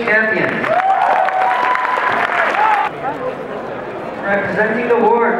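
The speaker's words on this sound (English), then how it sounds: "Let's have one more round of applause for our newest moves champions." Crowd applause at the World Rubik's Cube Championship 2013 as champions are honored, steady loud clapping with an amplified voice talking over it and a few cheers.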